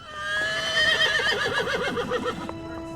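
A horse whinnies loudly and close by on a film set, a long wavering neigh lasting over two seconds, followed by faint background sounds.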